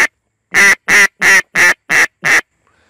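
A duck call imitates the quack of a black duck (mallard) on the tidal flats of the St. Lawrence: six loud, close, evenly spaced quacks in a descending run, each standing alone with no other sound.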